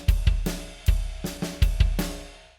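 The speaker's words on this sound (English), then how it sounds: "So the 2011 drum beat's something like this." The 2011 drum beat plays alone: punchy kick and snare hits in a loose, uneven rhythm with a bright cymbal wash, roughly eight strikes over a couple of seconds before ringing out.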